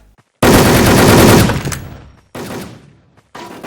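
Loud, close automatic gunfire in a video game clan battle, with one long burst and then two shorter ones separated by brief silences.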